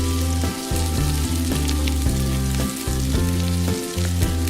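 Sizzling from a Minnie Mouse toy kitchen playset stove during pretend cooking of a turnip, a loud electronic frying crackle in repeating bursts that switch off and on every second or so, heard alone without talk.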